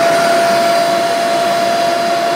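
Dyson V8 cordless vacuum cleaner running at full suction while being emptied of dust, a loud steady high-pitched whine with a sharp tonal hum, unbroken and close throughout.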